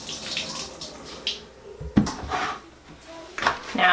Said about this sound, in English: So this time I am actually wringing them out because I'm done washing.